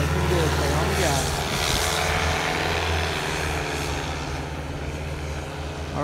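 A powered paraglider engine is throttled up during flight training, a loud, steady propeller drone close to the microphone that eases slightly toward the end.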